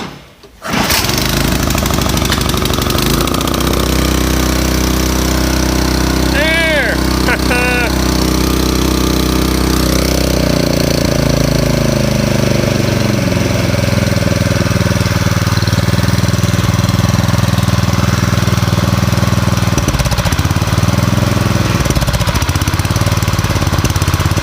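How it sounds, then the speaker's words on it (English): An old, rusty tiller engine is cranked and fires up into a loud, rough, steady running chug, with a couple of short squeaky bursts early on and a shift in pitch midway, no voices over it. "we'll give her a couple cranks here and see what happens"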